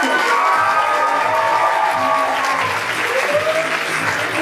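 A school audience at a hidden-talent show applauds and cheers, dense continuous clapping with scattered shouts and whoops, loud and sustained throughout.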